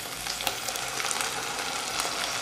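Loud, steady sizzle of masala paste frying with peas in a pan for restaurant-style matar paneer, a dense crackling hiss with small spatters and no talking.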